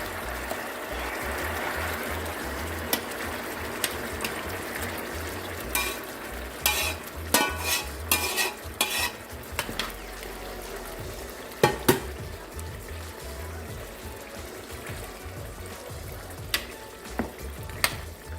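Jamaican-style oxtail cooking down in a pot, a steady close sizzle of frying broken by scraping stirs and clinks of a spoon against the metal, with no talking.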